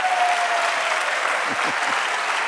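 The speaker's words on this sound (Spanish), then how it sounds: "¡Dale aplauso al Señor!" A church congregation applauds with steady, dense clapping that continues at an even level from start to finish.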